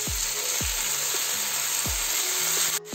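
Sliced onions and mushrooms fry in a pan, giving off a loud, steady sizzle broken by a few soft, low knocks.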